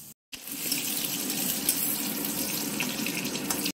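Tap water gushes steadily into a sink while freshly cut vegetables are rinsed, a continuous close hiss that starts after a brief silent gap and runs without talk.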